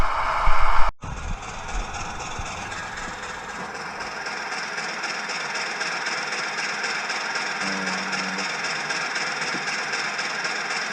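A steady mechanical running hum with a brief sharp click at the start, continuous and fairly close, as an OO gauge model locomotive motors along the track of a large loft layout.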